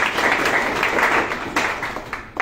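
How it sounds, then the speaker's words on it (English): Conference audience at a university centenary event applauds the guest speakers, a dense, steady round of clapping filling the whole moment at close range, with no voices over it. "let us give them a round of applause"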